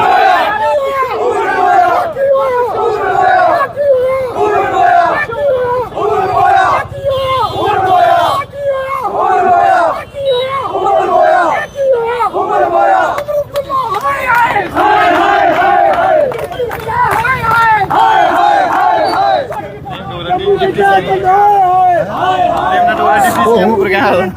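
BJP supporters in Kathua, Jammu and Kashmir, chanting slogans against the NC-Congress government, with a dense crowd voicing rhythmic, loud, repeated calls continuously close by.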